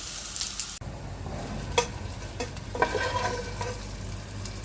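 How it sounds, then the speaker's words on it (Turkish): Meatballs sear and sizzle in a pot with a steady crackling hiss, broken by a few clinks and scrapes of stirring, close and moderately loud. "köftelerimi de birazcık mühürlüyorum aynı tenceremde."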